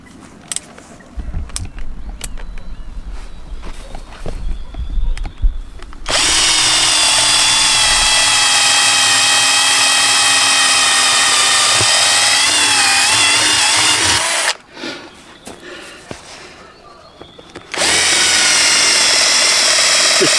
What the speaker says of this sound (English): So that's just marked my wood where I'm going to drill.